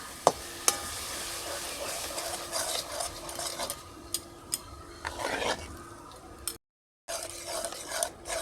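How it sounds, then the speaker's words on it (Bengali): Yogurt is whisked in a bowl with a quick scraping, stirring rhythm broken by sharp clicks of the utensil against the rim, close and fairly quiet, briefly cutting out near the end. "দইটাকে নিয়ে খালি একটু ফাটিয়ে নিচ্ছি"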